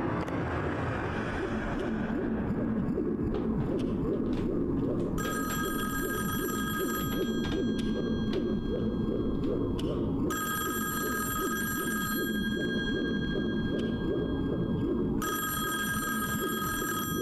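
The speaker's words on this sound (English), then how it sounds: "answer the phone" A telephone ringing in a short horror film, with three long bursts of electronic ringing that start and stop at regular intervals over a dense, low ambient rumble.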